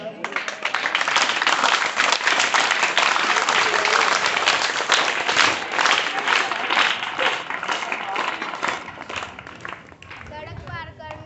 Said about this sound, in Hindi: जिसकी शुरुआत हम लोग एक छोटी सी ताली से करेंगे